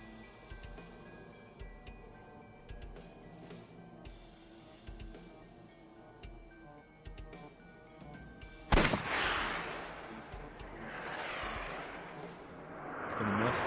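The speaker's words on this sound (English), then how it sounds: "I'll try shooting it." Revolver gunshot from the video game AI: The Somnium Files, a single sharp loud report that breaks in after a stretch of quiet game ambience and music, followed by a sustained noisy roar.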